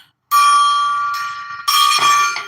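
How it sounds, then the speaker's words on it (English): A small gong is struck twice, ringing with a bright metallic shimmer; the first strike decays slowly before a second, louder hit rings out close and alone. "So let's do the gong."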